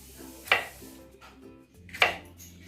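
A knife slicing through a bell pepper (capsicum) on a cutting board, two distinct sharp chops about one and a half seconds apart, close and clear, with quiet handling between them.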